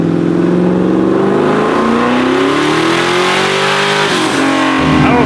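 A Scion FR-S tuned toward 700 hp revs hard on a dyno during a pull, its loud engine note climbing steadily in pitch with a dip and recovery near the end, continuous and close with no talking.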